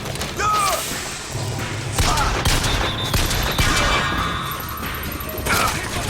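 Golden pistol gunfire in Bioshock Infinite amid a chaotic firefight, with sharp shots, crashes and clanking mechanisms piling up loudly, plus scattered game effects and background din.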